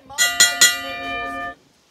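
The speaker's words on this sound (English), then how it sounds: "Ring the bell." Three sharp clangs of a wrestling ring bell in a video game wrestling match, struck in quick succession and left to ring out briefly, loud and clear with no talk over them.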